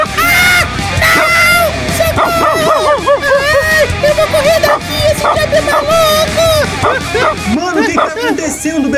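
A dog in the video game GTA 5 barks and yelps repeatedly in loud, rapid bursts, mixed with excited, overlapping voices and game noise throughout.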